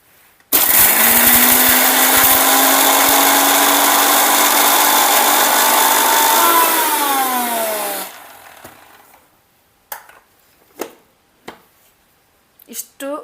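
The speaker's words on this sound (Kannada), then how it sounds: "ಇಷ್ಟು ಸಣ್ಣ ಮಾಡಿಕೊಂಡೆ ನಾನು ಮಿಕ್ಸಿ ಒಳಗೆ." A kitchen mixer grinder runs on soaked chana dal and other ingredients, a loud continuous whir that slows and winds down after about eight seconds, followed by a few sharp knocks and clatters from the jar.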